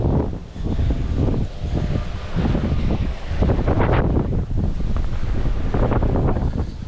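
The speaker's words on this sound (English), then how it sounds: "Windy day" Wind gusts buffet the microphone on a warm, windy mountain day outdoors, a loud, rough, uneven roar that swells and eases in waves throughout, with no voices.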